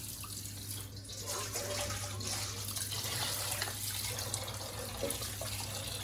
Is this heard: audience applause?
no